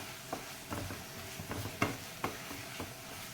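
Chili powder hits hot oil in a pan for chicken curry, giving a faint, soft sizzle with a few light scraping stirs and taps scattered through.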